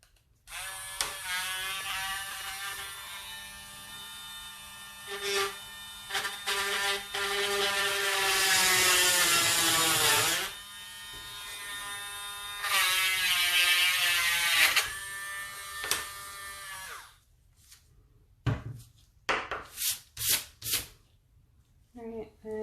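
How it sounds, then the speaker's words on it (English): A small electric drill bores a hole through an acrylic epoxy blank, whining in several sustained runs that start and stop, close up, with short taps and handling noises near the end. "drill the hole."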